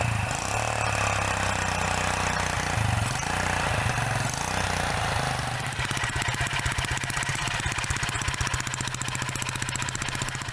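A motorbike engine used for hauling cut logs in Indonesia runs loud and close, first a steady drone with small pitch dips, then a rapid, even chugging pulse for the last seconds; no voices.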